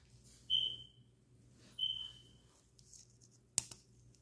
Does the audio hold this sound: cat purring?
no